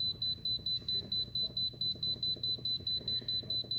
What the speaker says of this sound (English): You just keep pushing the plus sign till it hits 90.